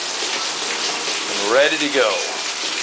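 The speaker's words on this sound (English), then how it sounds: "All we gotta do is wait for it to stop raining." Rain falls outdoors on a wet day in Florida, making a steady, close hiss throughout while someone speaks briefly over it.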